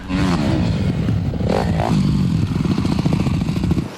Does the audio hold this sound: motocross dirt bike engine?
yes